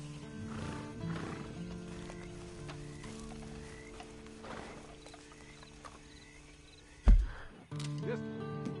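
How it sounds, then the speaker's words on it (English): Horse in the Red Dead Online video game, with hooves clip-clopping and a whinny over a low ambient game soundscape, followed by a sudden loud thump and shuffle near the end; speech is faintly present. "And you better get on this horse."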